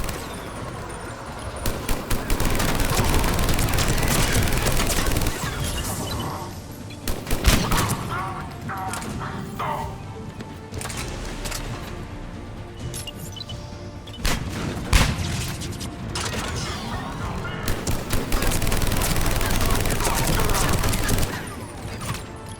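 Gunfire rattles in the Mass Effect 3 video game, including a mounted gun, as dense bursts of shots and booms recur across the clip with short lulls between heavy volleys, mixed with battle noise.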